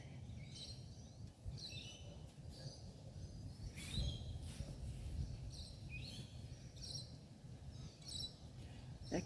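Birds chirping outdoors on a sunny day, repeated short high tweets at a moderate distance over a steady rustling background.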